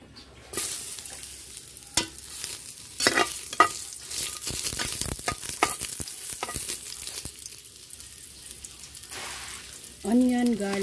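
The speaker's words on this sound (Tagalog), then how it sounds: "Isa-isa natin igisa ang ating mga sangkap para sa dagdag lasa." Ginger sautéing in a little oil in a pan for ginataang gabi: loud crackling sizzle with repeated sharp scraping stirs, close by, and a brief voice near the end.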